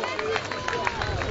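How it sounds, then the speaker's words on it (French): A crowd at a beach volleyball tournament applauds the winning team, a dense, continuous patter of clapping mixed with crowd babble and a voice talking over it. "Sur vos applaudissements les vainqueurs."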